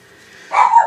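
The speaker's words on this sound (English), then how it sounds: "Sorry about the dogs." A dog gives a single short bark indoors during a craft session, close and fairly loud after a quiet moment.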